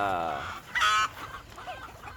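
A bearded white silkie chicken clucks close by in a short, fairly loud burst, with a brief higher call in the middle and softer farmyard sounds around it.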